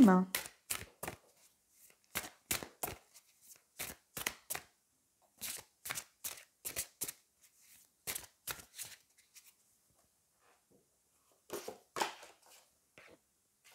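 A card drawn from a Vintage Wisdom oracle deck: a run of crisp, close card snaps and riffles in quick bursts, pausing in the middle and resuming near the end, in a quiet room.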